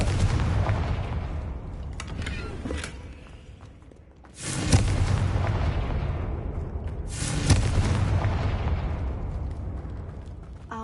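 Fire-spell explosions in the video game Hogwarts Legacy: two loud booming blasts a few seconds apart, each followed by a roaring rumble over continuous background game noise, with no speech.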